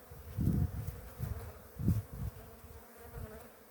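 Low droning buzz of many honeybees from hives being consolidated on pallets, swelling and fading in uneven pulses, fairly close, with no talking.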